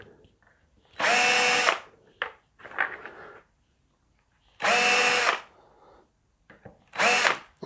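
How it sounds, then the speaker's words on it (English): A power drill countersinks a hole in the body of a TV yellow Les Paul Junior guitar, with three loud, close whirring bursts of about half a second to a second each, separated by quieter handling clicks and pauses. "I'm just literally going to eyeball the countersink in there."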